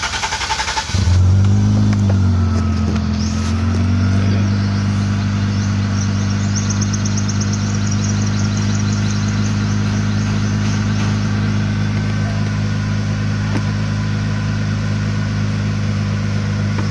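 A car engine with a misfire and high idle RPM cranks and catches after about a second, then idles loud and steady with a low rumble for the rest of the time, alone with no talking.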